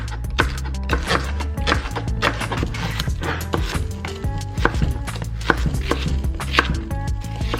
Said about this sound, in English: I am chopping up some veg to make a tofu scramble.